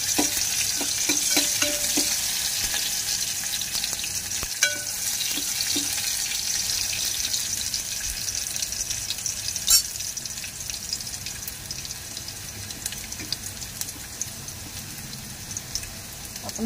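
Garlic frying gently in oil, a steady soft sizzle throughout with a few faint stirring clicks and taps near the start.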